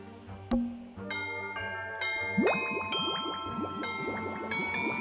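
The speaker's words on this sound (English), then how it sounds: "Oh yes, there was a doorbell." Tangle Tower puzzle game doorbell ringing, a series of bright chiming tones with a descending, ringing melodic pattern that layers and lingers, sounding alone.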